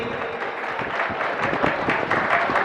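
Applause at a college function in Kabirwala greeting the principal, Chaudhry Naseem Abbas: a short stretch of steady clapping from a crowd, moderately loud.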